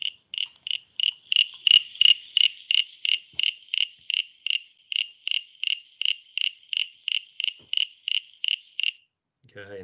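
A recorded frog call from a Melbourne frog survey rings out as a long, evenly spaced series of sharp, cricket-like chirps at a steady pace, loud and clear against silence before stopping abruptly.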